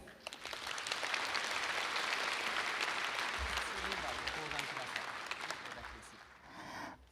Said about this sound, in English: Please give a big round of applause to committee members.